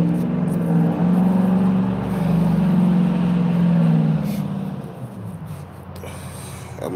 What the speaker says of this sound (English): That motherfucker truck sound like he was hot.